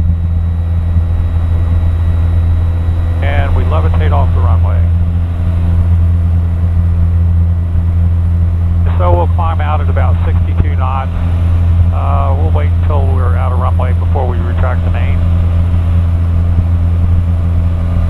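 The engine of a Stemme S12 motorglider drones steadily at full power during the climb, a loud continuous hum that fills the cabin while voices talk over it in two stretches.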